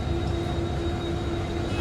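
A train rumbles past near a roadside outside Porbandar, a broad steady roar with a faint tonal whine, continuous and fairly close, with no talking.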